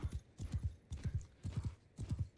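Horse hooves gallop in the video game Mount and Blade: Bannerlord, repeated bursts of quick, muffled clip-clop beats at a steady rhythm, moderately quiet.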